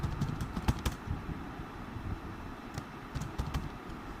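Fingers tap on a computer keyboard in short, quiet clusters of keystrokes with brief pauses between them, close by and unaccompanied by speech.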